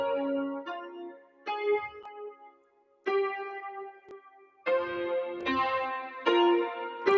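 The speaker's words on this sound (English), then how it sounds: "can y'all also hear my jingles?" A short musical jingle plays in bright, punchy bursts with pauses between phrases, synth-like tones repeating over a light beat.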